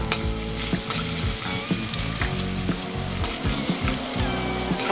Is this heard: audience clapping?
no